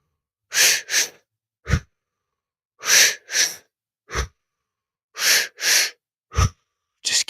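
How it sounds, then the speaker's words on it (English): Deep, forceful breathing during a breathwork exercise: a repeating cycle of two strong, close breaths followed by a shorter sharp one, three rounds with silent pauses between them. "Just keep breathing."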